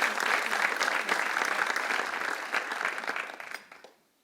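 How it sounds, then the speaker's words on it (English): Warm audience applause for a panel at a tech keynote event, dense clapping from a room full of people holding steady for several seconds before tapering off and fading out. "So give them a warm applause."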